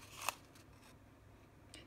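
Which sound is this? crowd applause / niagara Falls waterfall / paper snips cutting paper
paper snips cutting paper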